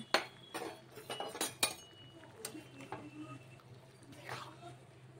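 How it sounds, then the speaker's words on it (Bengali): Drumstick, potato and bitter gourd cooking in poppy seed paste are stirred in a pan, giving a run of close metallic clinks and scrapes of a spoon against the pan, clustered early and then sparser, with no talk. "এবার একটু ভালো করে নাড়িয়ে চাড়িয়ে দিচ্ছি।"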